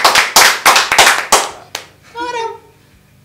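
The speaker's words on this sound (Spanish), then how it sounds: "Un aplauso para ti" A few loud, separate hand claps land in a quick uneven rhythm close by in a small informal setting, then stop, and a short bright whistle-like voice sound follows.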